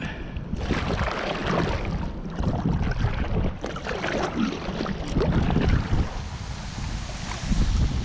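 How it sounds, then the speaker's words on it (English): Steady, broadband rushing of water pouring hard and continuously from a burst water pipe under a bridge, with a wind-buffeted, rumbling quality and no voices. "looks like a water pipe that's underneath the bridge has busted, and it is just pouring out water"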